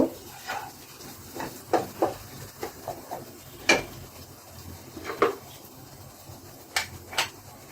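A spoon knocks and scrapes against a pan while spices are stirred into shrimp pulao, giving irregular light clinks and taps spread over several seconds in a quiet room.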